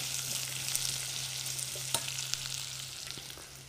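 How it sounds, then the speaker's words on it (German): Onion frying with celery in a small pot gives a soft, steady sizzle with a few faint clicks of stirring, quiet and without voices. "kommt die Zwiebel mit dazu in meinen kleinen Topf. Hier brate ich weiter."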